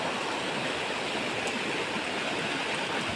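Mountain waterfall pouring steadily, a dense, continuous roar of falling water, even and unbroken throughout with no voices.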